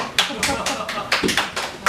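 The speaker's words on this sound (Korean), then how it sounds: "박수." Claps ring out in a church congregation during a sermon, a loose run of about seven sharp hand claps spaced irregularly across a couple of seconds, close and fairly loud with some room echo.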